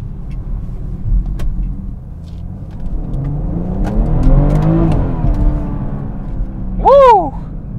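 A tuned Dinan 2016 BMW 340i xDrive with over 400 bhp surges under acceleration, its engine note rising and then blipping through downshifts, loud and close from inside the car.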